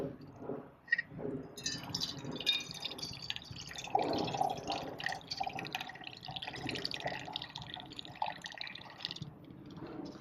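Water from a Berkey travel filter runs into a metal canteen cup, a faint, continuous trickle with small splashes and drips spread over about ten seconds.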